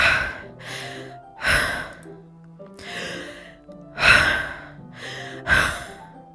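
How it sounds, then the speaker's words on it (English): Sharp, hissing inhales sucked through clenched teeth recur in a slow, uneven rhythm, close and fairly loud, as tense breathing in the horror game Doki Doki Literature Club. "It sounds like breathing. A sharp inhale, like someone is sucking the air through their teeth."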